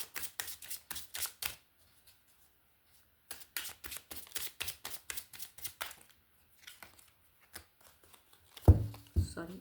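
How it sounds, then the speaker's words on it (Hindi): A deck of tarot cards is shuffled by hand in quick, crisp riffles. Two clusters of sharp, close flutters are separated by pauses, ending with a few louder knocks and handling sounds. "सॉरी, एक लास्ट शफल लेती हूँ।"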